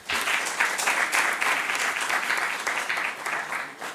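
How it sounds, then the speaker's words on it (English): Steady applause from a small crowd at a school quiz competition, a continuous patter of clapping hands that holds at an even level throughout without voices. "A round of applause for her."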